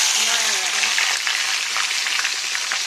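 Green chilies, bay leaf and spices hitting hot oil for a Bengali egg and potato curry, a loud dense crackling sizzle right up close and unbroken throughout.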